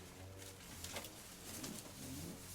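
Domestic pigeons, a young hen among them, give low rolling coos, faint and somewhat distant, in a short soft sequence with light rustling and no speech.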